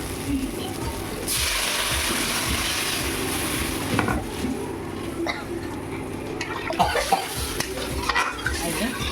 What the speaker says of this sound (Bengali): এবার আমি ওতে জল ঢেলে দেবো